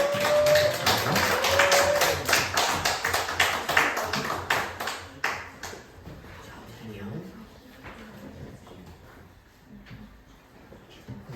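A church congregation applauds together, a dense burst of clapping that stays loud for several seconds, then thins into scattered claps and fades out.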